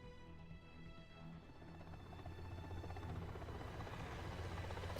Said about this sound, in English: helicopters soar over our heads like drifting clouds